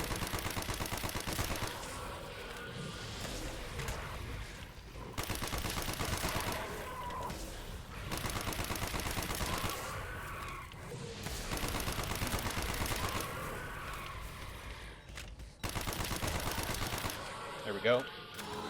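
Bursts of automatic gunfire rattle through Call of Duty Black Ops Zombies gameplay, dense and steady for long stretches with brief pauses between volleys.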